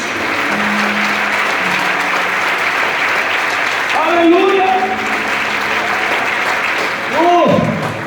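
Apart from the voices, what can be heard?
church congregation applauding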